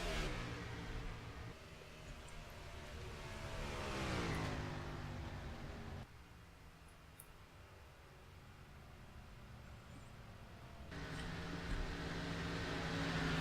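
Race cars in a NASCAR Xfinity Series video game at Dover roar through the final corner, engines rising in pitch as they sweep past, then a quieter stretch before the engine noise swells again.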